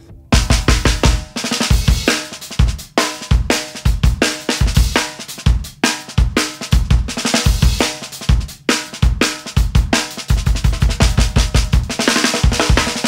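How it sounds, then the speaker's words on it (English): A piccolo snare drum tuned high and ringy, struck in a steady groove of sharp, bright cracks with a lingering ring, played alone and close for the whole stretch. "nothing quite does a high and ringy tuning like a piccolo snare, which would sound something like this."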